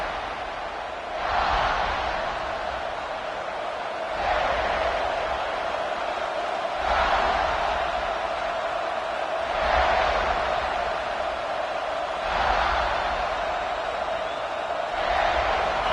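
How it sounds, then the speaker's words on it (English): Football stadium crowd at the opening kickoff of an Alabama–South Carolina game, a dense continuous roar swelling in waves every few seconds, loud and distant-sounding with no clear voices on top. "This crowd ready to make its presence known."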